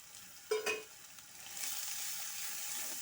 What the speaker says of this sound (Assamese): এতিয়া মই বিলাহীখিনি আৰু নহৰু বটাখিনি দি দিম।